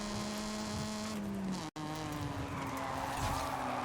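A car drifts and skids in Forza Horizon 5, a sustained engine whine with tire squeal sliding down in pitch, briefly cutting out before the revving and screeching pick up again, loud and continuous.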